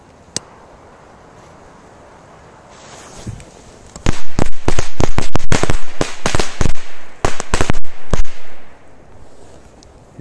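A firecracker machine-gun belt goes off outdoors, a lone early pop followed by a long rapid string of loud, sharp cracks firing in quick irregular succession for several seconds, then a few last scattered bangs.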